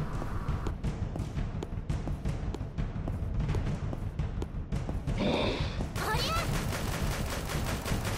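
Gunfire in the video game Dead or School, a series of sharp, repeated shots with bursts of rapid fire, loud and close, over steady game music and effects.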